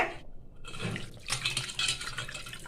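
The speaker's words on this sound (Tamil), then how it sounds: "கொஞ்சமாக தண்ணி சேர்த்துக்கலாம்." Water is poured into a pot of tomato rasam in a splashing, trickling stream, close up, with light liquid sloshing and no talking.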